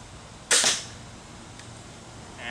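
A Barnett Avenger compound crossbow fires at a target from about 30 feet, a single sharp snap that fades quickly into quiet outdoor background.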